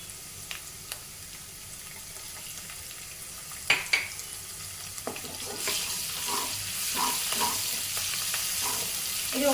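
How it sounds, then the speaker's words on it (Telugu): Green chillies frying in hot oil in a pan, a steady close sizzle with a few sharp clinks early on, the frying growing louder and denser toward the end, no talking. "ఇవన్నీ వేగుతున్నప్పుడే కొంచెం పచ్చిమిర్చి"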